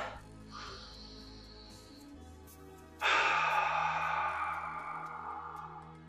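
A deep breath in during karate training: a soft airy sound at first, then a louder, long, rushing inhale that slowly fades.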